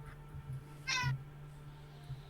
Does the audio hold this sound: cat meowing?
yes